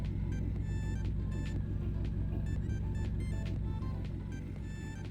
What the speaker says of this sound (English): When you turn the car on, the exhaust sound is